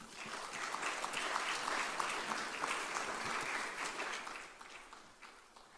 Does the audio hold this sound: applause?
yes